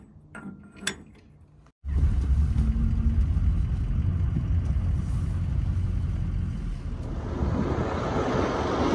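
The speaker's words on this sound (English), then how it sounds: "Look at this truck rolling up next to me." A truck rolls up alongside on the road, heard as a loud, close, steady engine and road rumble that swells in after a brief quiet stretch and holds for several seconds.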